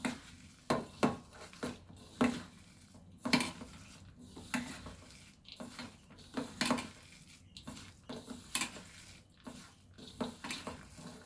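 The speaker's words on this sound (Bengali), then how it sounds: "এগুলো আবার আমি একটু ভালো করে মেখে নেব" Lentil paste with salt for daler bora being kneaded by hand in a bowl without water, producing soft rhythmic squelches and slaps that repeat close up and fairly quiet.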